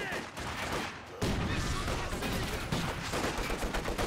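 Gunfire from a firefight in the video game Company of Heroes 2, dense overlapping rifle and machine-gun bursts that crackle continuously and loudly, with a sharper surge of shots partway through.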